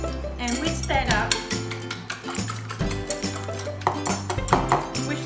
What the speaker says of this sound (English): And whisk that up.